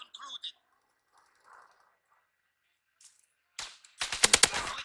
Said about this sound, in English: Because we got a submachine gun and it ain't got that good of range.